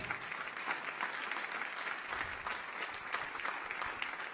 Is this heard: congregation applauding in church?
yes